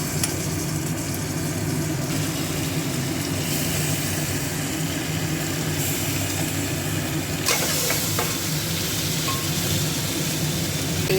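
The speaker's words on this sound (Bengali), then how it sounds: "এবারে এখানে আমি আগে থেকে ম্যারিনেট করা যে মাটনটা ছিল সেটা দিয়ে দেবো।" Marinated mutton going into a pan of deep-fried onions sets off a continuous broad hiss of sizzling oil, steady and close, with a brief clatter partway through.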